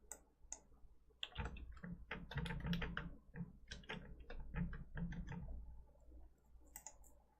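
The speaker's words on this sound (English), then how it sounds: "My keyboard sounds lumpy." Computer keyboard keys clicking and clacking in quick, uneven bursts of typing, close and fairly quiet, fading to a few scattered taps at the end, with no talking.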